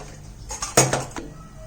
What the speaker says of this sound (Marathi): त्यावर कढई ठेवूया